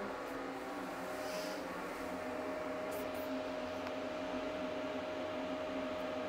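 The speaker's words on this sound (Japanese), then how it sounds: "換気扇の音が響く。" A kitchen ventilation fan hums steadily indoors, a constant broadband whir with a faint tonal whine running unchanged throughout, fairly quiet and alone.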